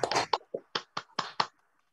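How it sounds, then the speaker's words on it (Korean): A brief, sparse round of hand claps welcoming a speaker at a morning staff meeting, with about seven distinct claps in quick succession that then stop. "모두 박수로 모시도록 하겠습니다."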